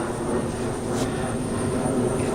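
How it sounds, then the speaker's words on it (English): A propeller airplane drones overhead at a Revolutionary War battlefield site, a steady continuous engine hum at moderate distance with no talk. "And a plane flying overhead, of course."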